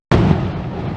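A firecracker set off during the day in Italy: a single sharp, loud bang that cuts in suddenly out of silence, then rumbles and decays over the following second.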